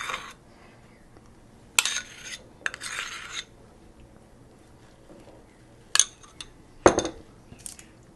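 A cream mixture being spread over baked puff pastry for a tart, heard as intermittent soft rasping scrapes and brief clinks of utensil against the dish, with quiet gaps between strokes.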